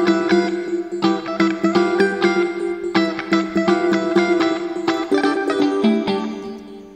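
Rhodes-style electric piano synth keys layered with guitar, sustained chords and melodic notes ringing together steadily and loudly, with no voices.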